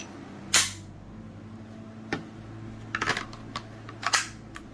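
An Olight PL Mini 2 Valkyrie flashlight snaps into and out of a universal push-button release holster, making a few sharp plastic clicks up close, the last ones in a quick cluster, with no talking.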